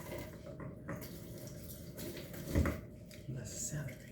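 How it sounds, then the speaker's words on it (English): Celery rinsed under a running kitchen tap, with a steady close splash of water that briefly grows louder as the stalks move through the stream, and a voice speaking over it. "Go ahead and rinse out your celery."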